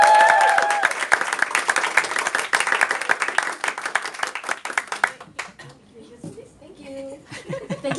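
A crowd at a business team event applauds to welcome someone speaker, with dense clapping and a few cheers for about five seconds before it thins out and a voice starts talking.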